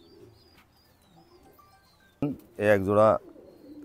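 Young Pakistani Teddy pigeons coo softly at close range in a loft, while someone speaks briefly over them.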